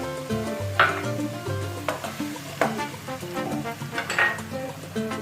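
Sour yogurt goes into a pan of onions fried until pale, with a steady sizzle and a few sharp stirring scrapes and clinks of utensil on pan, close and with no talk.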